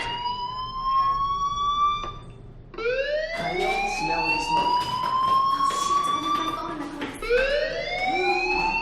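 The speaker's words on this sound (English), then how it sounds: "Hey, do you hear that fire alarm?" Fire alarm ringing inside a school building in the video game Life is Strange: a loud, continuous electronic tone with repeated rising sweeps that keep going without a break.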